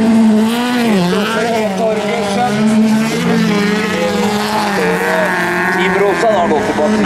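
Bilcross race cars roar at high speed at a summer Sankthans event in Sigdal, engines loud and close with rising and falling revs, a continuous wall of motor noise with faint commentary underneath.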